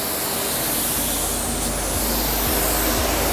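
A paint sprayer spraying paint on a painting job gives a loud, steady hiss throughout, with a faint low pulsing underneath and no voices.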